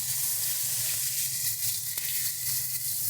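Garlic paste hits hot oil in a kadai while pea kachori filling is being cooked, giving a loud, steady, close sizzle with a constant hiss and no pauses.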